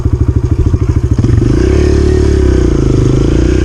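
A dirt bike engine chugs in rapid pulses in first gear and then rises into a loud, steady drone as the rider shifts up, close and loud, with wind and rattling under it.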